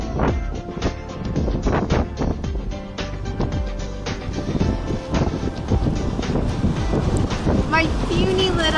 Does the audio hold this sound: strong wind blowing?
yes